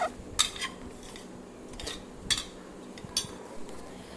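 A spoon stirs masala powders into pea kurma in a metal pan, with a few sharp clinks and scrapes against the pan over a soft background hiss, close by and without speech.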